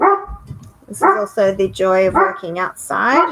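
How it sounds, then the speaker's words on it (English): Neighbouring dogs next door bark and yip in a rapid, excited series of calls close by, while a person speaks briefly in between the barks. "excuse the noise, it's dogs next door, they're a bit mad."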